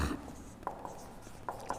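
Pen or marker writing a heading during a Hindi chemistry lecture: a few short scratchy strokes in quick succession, faint and close, with no speech.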